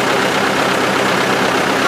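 A tractor engine runs on a farm, giving a steady, close, broadband rumble that holds evenly without a break.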